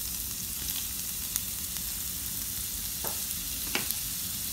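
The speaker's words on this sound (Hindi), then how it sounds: "अब मैं इसमें अपने जिंजर डाल रही हूँ।" Ginger fries in about a tablespoon of hot oil in a pan, a steady close sizzle with occasional small pops and light clicks.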